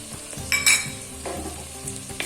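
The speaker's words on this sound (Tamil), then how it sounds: "சின்ன வெங்காயம் வதங்கிட்டு இருக்குங்க" Shallots, garlic and dried red chillies sizzle in a hot pan as they are sautéed, with a steady fry broken by a few sharp stirring scrapes and clinks.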